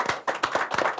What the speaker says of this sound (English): round of applause for Barbara Conklin, Lois Bone